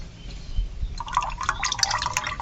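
Dissolved sugar syrup is poured into a mango Frooti drink, giving a soft liquid trickle and pouring splash that starts about a second in and continues close and fairly quiet to the end.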